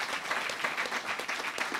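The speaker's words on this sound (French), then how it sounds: "On peut l'applaudir à nouveau." Steady audience applause at a Paris-Saclay Summit interview session, a continuous mass of clapping from a large seated crowd heard at moderate distance.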